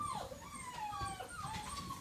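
A puppy whimpers in a series of high, thin, wavering whines that rise and fall over a low background rumble. No one speaks.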